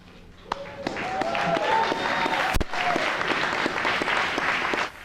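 Dignitaries applaud at a bridge dedication ceremony held at a town firehouse, with dense sustained clapping from a modest crowd, a sharp thump partway through, and faint voices and whistle-like tones mixed in.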